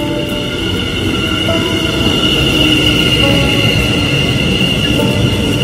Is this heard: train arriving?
yes